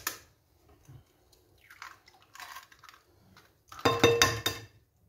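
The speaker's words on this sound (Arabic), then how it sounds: "وندير البيض، زوج حبات بيض متوسطين" Two medium eggs are cracked and added to a bread dough for babka: soft separate clinks and taps, then a louder wet plop and scraping near the end, quiet and close, with no talk.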